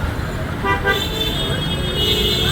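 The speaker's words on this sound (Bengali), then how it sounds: "অবস্থা একবারে যানজট" Car horns toot repeatedly over a constant rumble of slow traffic in a Dhaka traffic jam on flooded rainy streets, with several short honks overlapping.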